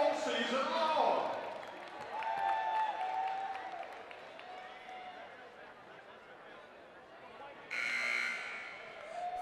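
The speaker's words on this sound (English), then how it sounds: "Aaron Cochran heaved one at the buzzer from half court, cut it to 11" A game-clock buzzer sounds in a gym during a women's college basketball game, first as a loud burst at the start and again as a second blast near the end, over crowd noise, applause and voices.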